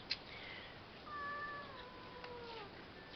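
A cat lets out a drawn-out, wavering meow, thin and fairly quiet, with a short chirp at the start.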